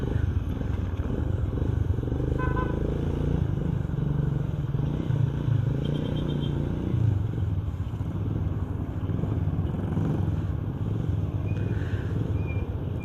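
A motorcycle being broken in hums along during a ride to a town fiesta in Padre Garcia, Batangas, its engine a steady close drone with faint clatter and no talk.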